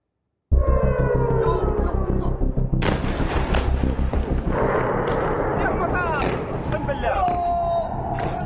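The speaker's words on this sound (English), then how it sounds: "Ballistic missiles tearing through the night sky." Ballistic missiles fired by Iran into Israel at night, heard as a continuous loud roar of booming blasts and rumbling launches with sharp bursts throughout, alongside a murmur of voices.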